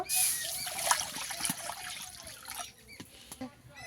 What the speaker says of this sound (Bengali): কড়া বসিয়ে দিয়েছি, জল দিয়ে দেব